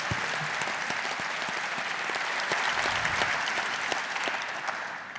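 An audience at a college summit applauds steadily, a dense, continuous wash of many hands clapping that holds for several seconds at moderate distance.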